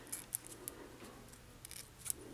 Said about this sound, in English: then you just trim it with scissors when you're done to make it into kind of like a point